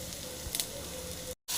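Fenugreek seeds hit hot oil already fragrant with garlic and cumin for a drumstick-leaf rasam, giving a soft, steady, close sizzle with faint crackling that cuts out briefly near the end.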